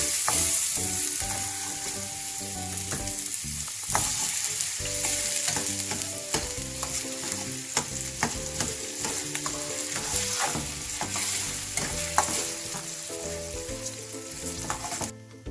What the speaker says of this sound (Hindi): ऑयल हमारा गर्म हो चुका है, तो अब हम इसके अंदर आलू को शामिल करेंगे।